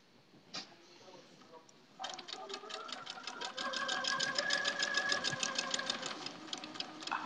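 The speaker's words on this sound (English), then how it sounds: "coming up over another pin, so I'm just taking my time, going nice and slow" A sewing machine stitches a quilt block with pins in it, starting after a brief click, then running steadily with a fast, even rhythmic whir that grows slightly louder, close up, with no talking.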